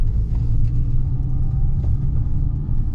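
Porsche Cayman S 987 pulling away, a deep steady engine rumble heard from inside the car, low and constant without any sharp revving.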